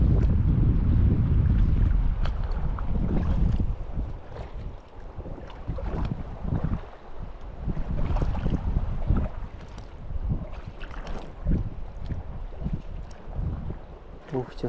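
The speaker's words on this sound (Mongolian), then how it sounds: "Гадаа амар салхитай байна." Steady outdoor wind buffets the microphone on a grayling fishing trip, heaviest in the first few seconds as a low roar, then gustier and lighter with irregular rustling bursts throughout.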